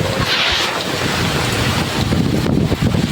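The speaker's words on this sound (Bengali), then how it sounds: "দেখো কত জোরে বৃষ্টি হচ্ছে" Heavy rain pours down hard outdoors, a loud, dense, steady wash with gusty wind buffeting the microphone throughout.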